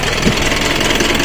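An Isuzu 4JJ1 twin turbo diesel engine runs at a steady, loud idle, a continuous close rumble with no voices over it.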